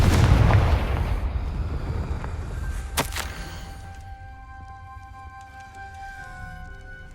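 A Confringo fire spell explodes in Hogwarts Legacy with a heavy, booming blast up close, followed by a sharp crack and a long, fading rumble under ringing magical tones.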